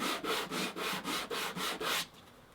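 Seven rhythmic back-and-forth strokes of 220-grit sandpaper on a leather edge rasp evenly and up close, each about a quarter second, then stop.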